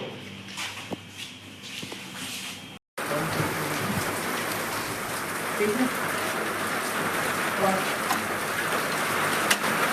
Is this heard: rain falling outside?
yes